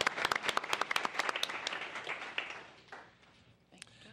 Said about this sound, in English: Now let's give her applause.